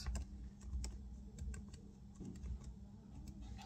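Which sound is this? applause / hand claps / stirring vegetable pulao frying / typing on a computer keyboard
typing on a computer keyboard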